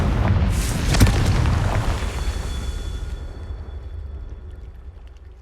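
Confringo explosive spell in the Hogwarts Legacy video game, a loud booming blast with a sharp crack near the start, followed by a long rumbling decay that fades away.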